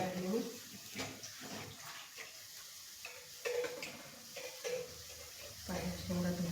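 Drumstick pods being washed in water, splashing and sloshing in uneven bursts close by with a faucet-like stream, while a person talks intermittently.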